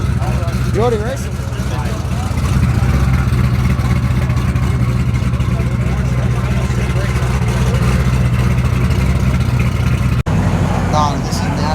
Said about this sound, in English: It's a twin turbo Corvette.